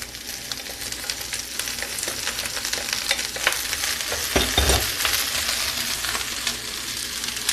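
Onions and garlic fry steadily in a cast iron pan over medium heat, giving a continuous dense sizzle with light scraping stirs and a brief clatter near the middle, and no voices.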